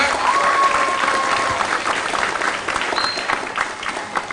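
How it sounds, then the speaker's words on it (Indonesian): Dense, steady applause from the audience at a national dialogue event honoring two professors fills the clip at an even, loud level from start to finish. "mari kita tepuk tangan meriah buat kedua profesor kita yang luar biasa"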